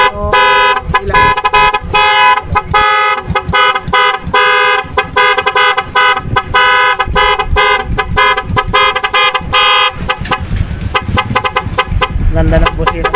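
A loud aftermarket horn fitted to a 2024 Yamaha NMAX V2 scooter blares in rapid, repeated honks and pulsing bursts, close and piercing for the whole stretch.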